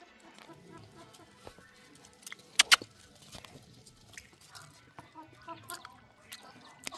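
Farm chickens clucking softly at a moderate distance, with scattered clucks and a couple of sharper calls among other faint farmyard noises in Nigeria.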